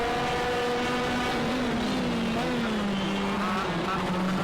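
A shifter kart engine in a racing sim game drones steadily throughout, its pitch bending and shifting as the kart works through gears, with a busy broadband hum underneath and faint talk mixed in.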